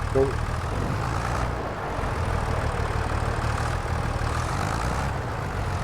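A small tractor engine runs steadily in Farming Simulator 25, a continuous low idling rumble with broadband mechanical noise that stays at an even level throughout.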